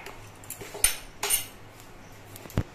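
One spoonful of black cumin seeds dry-frying in a pan, with a few loud metallic scrapes and clinks as a utensil stirs against the pan. Quieter pauses fall between the strokes, and there is no talk.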